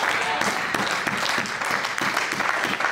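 A church congregation applauds after a reading of scripture, a dense, steady wash of clapping from many hands lasting about three seconds, loud and close with no voices standing out.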